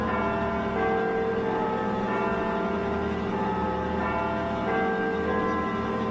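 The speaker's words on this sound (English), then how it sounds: "Now you see the tremolo and bells." Sustained ringing bells over a dense orchestral texture in a live performance, loud and continuous with a shimmering tremolo throughout.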